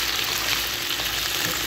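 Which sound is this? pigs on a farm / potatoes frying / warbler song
potatoes frying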